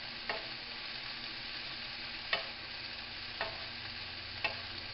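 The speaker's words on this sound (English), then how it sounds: "stir it. Stir it around. Don't let anything sit for too long. Scoop and flip it." Onions and meat stir-frying in a hot pan give a steady, even sizzle, broken by four sharp scrape-and-flip hits spaced a second or so apart.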